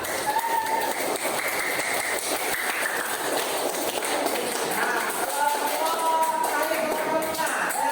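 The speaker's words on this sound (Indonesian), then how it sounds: "kita beri tepuk tangan untuk kelompok 4." Classmates in a school classroom give a round of applause for a student group, a steady wash of scattered clapping with voices chattering over it.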